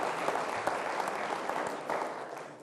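A university talk audience applauds with sustained dense clapping for nearly three seconds, fading slightly at the end.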